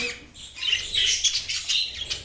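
Rapid high-pitched chirps and chattering from a show jumbo budgerigar, continuous and close, with no talking.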